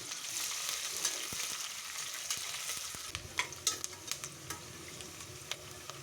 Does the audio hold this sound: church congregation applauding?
no